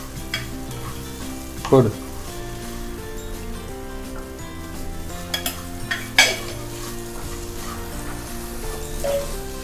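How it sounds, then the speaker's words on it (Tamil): Semolina stirred and fried in a pan for a chana dal sooji halwa, with steady scraping and soft sizzling plus a couple of sharp utensil knocks against the pan, while a voice briefly speaks. "இப்போ வந்து ரவை போட்டுக்கலாம், அரை கப் ரவை."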